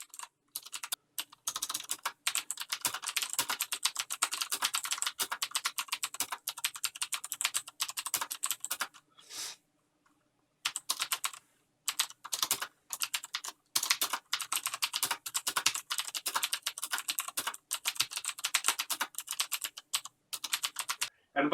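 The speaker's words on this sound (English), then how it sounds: "Here's a typing test for you to listen to." Someone types fast on a Corsair Strafe keyboard with Cherry MX Blue switches, giving dense, crisp, clicky keystrokes close up, broken by a brief pause near the middle.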